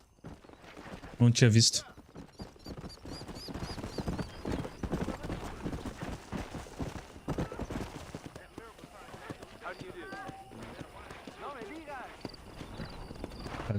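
Horse hooves clip-clop through much of the scene, with a loud whinny near the start, from a tired, stamina-drained horse in the Red Dead Redemption game on PC. Someone talks over it in Portuguese.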